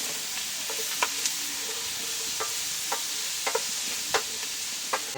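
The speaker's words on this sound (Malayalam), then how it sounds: "പച്ചമുളകും കൂടെ ചേർത്ത് കൊടുക്കുക പച്ചമണമൊക്കെ മാറുന്ന ഇടം വരെ നല്ലപോലെ വഴറ്റുക" Crushed garlic and green chili sauté in a pan under a steady bright sizzle, with scattered spatula taps and scrapes at uneven intervals, close and clear, and no talking.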